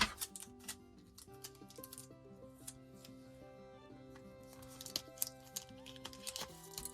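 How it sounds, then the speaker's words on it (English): Adhesive tape being pulled and pressed onto half-letter planner inserts, a few quiet scratchy rips and taps in short irregular bursts against soft background music, close but faint. "we're just gonna like tape that so they don't move"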